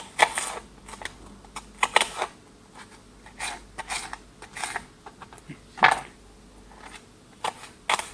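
A knife mincing onion on a cutting board for a quinoa, carrot, celery and raisin dish, with crisp irregular chopping taps, close and moderately quiet, no talking.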